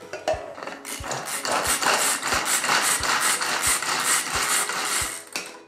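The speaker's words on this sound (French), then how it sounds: "J'ai ce petit appareil là, hachoir. Je vais voir si ça marche." A small manual food chopper dices vegetables with a rapid run of regular clacking strikes, about nine sharp knocks mixed with rattling blade and plastic noise, close and fairly loud, with no talking.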